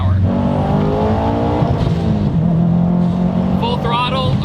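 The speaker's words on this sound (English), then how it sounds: "Full throttle around a corner." A 400 hp Subaru WRX Bugeye on sticky tires takes a mountain-road corner at full throttle, its engine loud, close and climbing in pitch before easing off, with a voice speaking over it.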